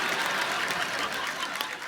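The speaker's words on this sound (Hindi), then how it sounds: "जोरदार तालियों से स्वागत करिए योग गुरु बाबा" Enthusiastic applause from an audience welcomes yoga guru Baba Ramdev, a dense, steady wash of clapping that holds evenly for about two seconds, with no voice above it.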